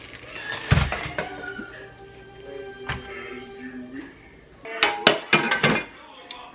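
A cooking pan is lifted out and handled in a home kitchen, giving a few scattered metallic clanks and thunks, with a louder cluster of knocks near the end.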